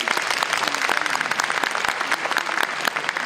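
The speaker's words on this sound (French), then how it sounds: "petit test d'applaudissement" A convention audience in Toulouse claps during an applause test before a voice-actor panel, giving a short burst of continuous, dense clapping with no talk over it.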